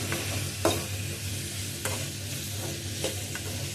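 Whole cardamom and cinnamon fry in a pan for kushka rice, giving a steady close sizzle with a few sharp stir clicks and scrapes, no voices.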